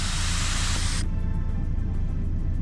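A truck tire is aired down to about 20 PSI through a LASFIT air hose. A loud, broad rush of escaping air lasts about a second, then cuts off abruptly and leaves only a low background hum.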